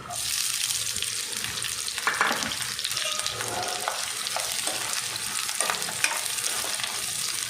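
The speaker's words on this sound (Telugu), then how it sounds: "మనం వేసుకున్న ఆనియన్, పచ్చిమిర్చి బాగా ఫ్రై అవ్వాలండి. మధ్య మధ్యలో కలుపుకుంటూ బాగా ఫ్రై చేసుకోవాలి." Chopped onion and green chilies fry in hot oil in a pan, giving a continuous close sizzle with occasional stirring scrapes.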